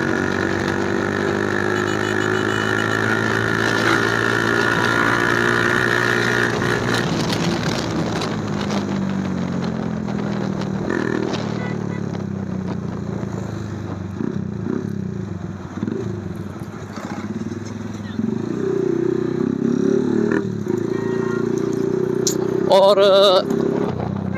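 A Hi Speed Infinity 150 motorcycle riding fast after shifting into fifth gear, loud steady engine drone with wind rush, the pitch dropping at the shift then building again, with a brief word spoken over it.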